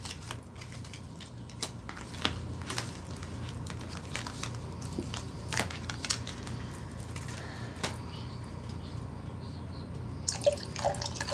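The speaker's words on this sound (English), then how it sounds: "I need to pour me more drink." A drink is poured into a glass, with quiet liquid trickling and scattered drips and clinks over a soft background hum. No one speaks.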